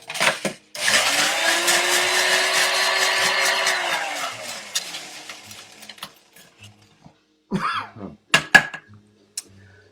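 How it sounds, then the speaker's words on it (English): A spindle blender whirs steadily for about four seconds as it flash-blends a tiki cocktail, its motor pitch settling then winding down, followed by a few clinks and knocks of glassware and handling. "Flash blend, so about 5 seconds on the spindle blender."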